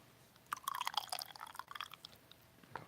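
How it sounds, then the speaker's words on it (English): Coffee is poured through a tea strainer, a close, trickling and dripping splash of liquid that runs for about two seconds and then tapers off, with no talk. "Pour my coffee into this tea strainer."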